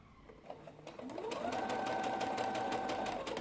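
A sewing machine stitches along the seam of a cotton face mask, starting with a short burst and then running in a steady, close, even whir with rapid needle ticks.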